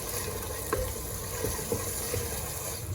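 Masoor dal with finely chopped fresh mint leaves is stirred in a pot: soft wet swishing with a few sharp spoon clicks against the metal, close and continuous, no voices.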